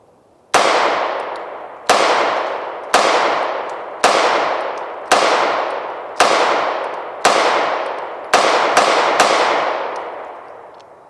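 Smith & Wesson Model 915 pistol firing at a range, ten loud sharp shots at a steady pace of roughly one per second, the last few coming faster, each with a ringing decay and no speech.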